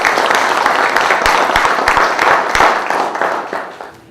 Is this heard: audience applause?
yes